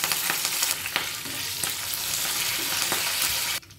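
Mustard seeds, urad dal, cumin, dried and green chillies and curry leaves sputter in hot oil, an even close sizzle with regular stirring clacks, cutting off abruptly near the end.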